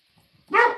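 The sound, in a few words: dog barking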